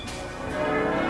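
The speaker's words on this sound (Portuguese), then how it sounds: "O dia nasceu ao som de furiosas badaladas." Church bells clang furiously at dawn in revolutionary Paris on 5 October, a dense, continuous metallic ringing that swells slightly louder over a brief moment with no voices.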